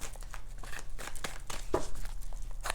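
Tarot cards being shuffled, soft close papery riffles and crinkles in uneven bursts, quiet and with no talking.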